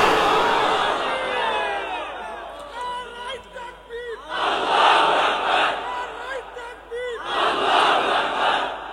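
A large crowd at an outdoor Islamic sermon roars out takbir in unison, loud sustained chanted bursts rising and falling in repeated waves, with a leader's voice calling in between.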